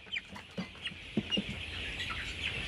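A small chicken, around 850 grams, gives several short clucks at a farm amid a steady background hiss, soft and close with uneven spacing.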